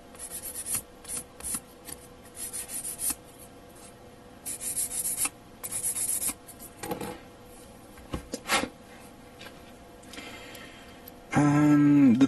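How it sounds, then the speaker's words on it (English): Light scratchy rubbing from a 400 grit sanding stick on a plastic model kit part, in short irregular bursts, close by, with a louder harsh rasping stretch near the end. "I'm using a 400 grit sanding stick."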